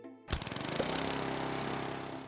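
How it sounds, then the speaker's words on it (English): Lawnmower from the video game Plants vs Zombies starting up with a sudden burst, then a steady, loud, pulsing mechanical drone running continuously without talk. "there's the lawnmower"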